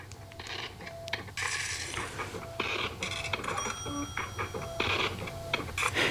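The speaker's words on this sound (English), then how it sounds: "the sound effects that she's using is like cash register and money collecting coins and stuff like that" Cash register and coin sound effects from a song, with mechanical ratcheting clicks, rattling drawer-like clatter and short ringing tones repeating over a steady musical backing.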